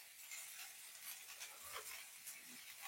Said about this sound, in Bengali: তো গাইস মশলাটা একটু হালকা কষিয়ে নিচ্ছি, হালকা হোক।